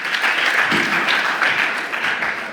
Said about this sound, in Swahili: Tumpigie huyu makofi